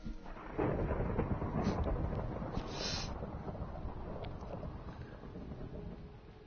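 Deep rumbling thunder rolls on for several seconds amid steady rain and wind noise, loud and close, with no voices.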